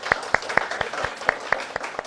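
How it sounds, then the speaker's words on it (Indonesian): A few people at a talk-show taping clap in a loose, fairly regular rhythm, distinct separate claps rather than a dense roar, moderately close and not very loud. "Tepuk tangan untuk kita semua."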